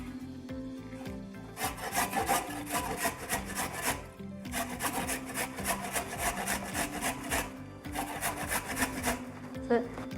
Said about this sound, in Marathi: आता ते आवळे मी एका किसणीने किसून घेते